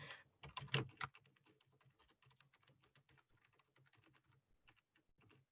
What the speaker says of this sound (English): I will type a sentence and it will echo back.